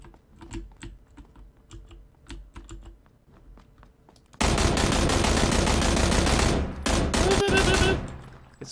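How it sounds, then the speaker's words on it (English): Gunfire in PlayerUnknown's Battlegrounds bursts into a loud, dense rattle of rapid shots that runs for several seconds, following a stretch of sharp keyboard clicks. "Get some gunplay going"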